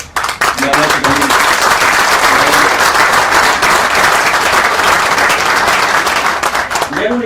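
Audience applause at the official inauguration of the EXPOSOFO 2022 agricultural exposition, dense sustained clapping from a large crowd that starts abruptly and continues loudly throughout, with a few faint voices at the start and the end.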